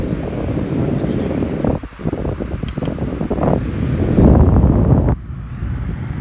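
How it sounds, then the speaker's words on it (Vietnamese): A Senko standing fan blows air in natural wind mode: a steady broadband rush that swells and eases, with a brief dip near two seconds and a sharper drop just after five seconds, close and fairly loud. "Chế độ gió nó sẽ tăng gió lên giống gió tự nhiên vậy á"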